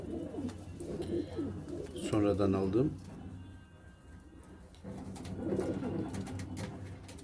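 Pigeons coo in low, rolling murmurs in the background while someone speaks briefly over them.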